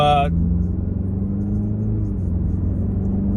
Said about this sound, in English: time to take this Z4 for a quick little drive